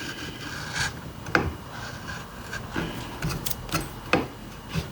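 A chisel pares wood on the neck of a 1973 Martin D28 guitar in a run of soft, irregular scraping and rubbing strokes, close and fairly quiet.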